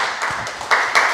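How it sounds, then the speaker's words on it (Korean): A church congregation claps in encouragement at an award ceremony, a short burst of dense applause that swells near the end. "우리 격려 박수 한번 해주실까요?"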